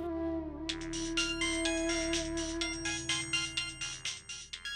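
A phone ringtone during a call, a melodic electronic tune of rapid repeated tones over a sustained low note, clear and fairly close, playing alone.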